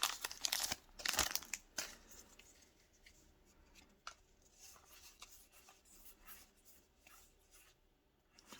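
A Pokémon card booster pack is torn open and its foil wrapper crinkled, with sharp ripping bursts at the start followed by softer rustling and card shuffling, close and quiet.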